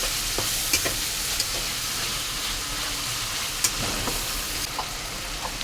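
Onion with garlic and ginger paste, cooked for a raw jackfruit curry, hisses in a pan in a constant close sizzle. Light scraping stirs and occasional soft taps come through, and no one speaks.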